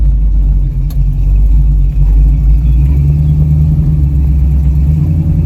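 A Ford Mustang engine while driving, a loud, steady low rumble with a smooth, continuous drone and no breaks.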